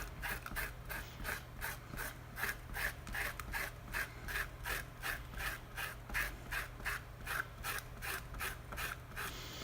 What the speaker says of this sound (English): now we're going to take off the masking fluid since it's dry